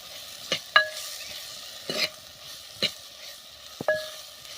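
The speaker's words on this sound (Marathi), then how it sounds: "आता परतून घेऊया आपण." A spoon stirs soaked bajra and moong dal in a pan, with sharp scraping clinks at irregular intervals over a soft, steady sizzle of frying.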